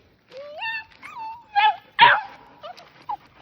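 A bluetick coonhound puppy lets out high rising whimpers and whines, followed by a couple of sharp yips and short barks, close by in a quiet evening outdoors.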